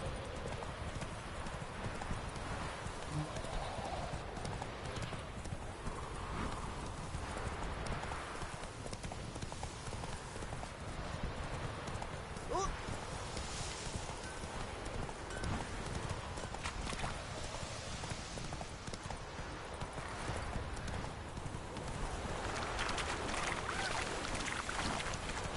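Horse hooves gallop in a steady clip-clop rhythm in The Witcher 3 video game, with a continuous outdoor ambience of wind or water under the hoofbeats and no talk.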